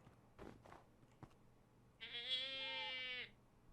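A screaming goat in Minecraft lets out one loud, drawn-out harmonic scream lasting over a second, after a few soft thumps and clicks.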